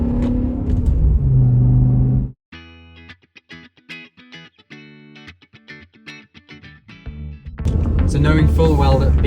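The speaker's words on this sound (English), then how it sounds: "you can just hear everything that engine provides" A BMW E60 M5 with its V10 engine accelerates hard in first gear, a loud, rising, harmonically rich engine note lasting several seconds, with talking before and after it.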